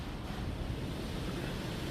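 Steady, broadband wind rushes outdoors near a shop, a constant close roar buffeting the microphone with no breaks, no talk and no other distinct sounds over it.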